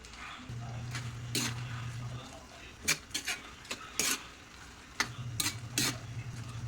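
Pork lung bopis broth being stirred in a pan, with scattered spoon scrapes and clinks over a soft simmer and a low steady hum. The sounds are intermittent and close.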